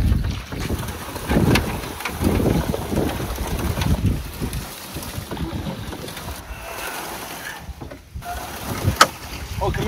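Boat moving through Everglades water: a steady low rumble and wash under gusty wind buffeting the microphone, loud and close throughout, with no clear speech.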